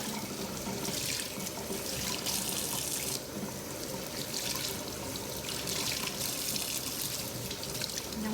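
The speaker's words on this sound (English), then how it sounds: "So the first thing we do now is wash out the excess dye." Tap water runs steadily into a sink, rinsing excess Rit dye from fabric, a continuous close splashing flow with surging texture as the cloth is worked under the stream, no voices.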